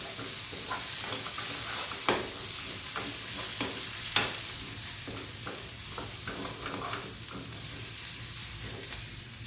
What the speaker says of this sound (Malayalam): ഒന്നുകൂടി നമുക്ക് ഇളക്കാം.